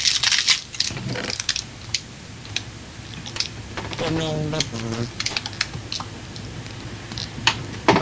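Crunchy, irregular bites and chewing of a granola bar sound up close in quick clusters, with a voice briefly speaking in the middle and soft clicking throughout.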